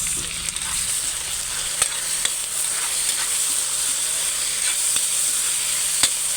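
Chopped tomatoes sizzle and fry in a hot pan for a Kapampangan pakbet with moringa, a steady bright crackling hiss broken by occasional stirring clicks, with no voices.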